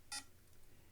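A single short electronic beep, bright and clipped, from a Color BASIC Worms snake-style game on a Tandy computer, followed by faint quiet background.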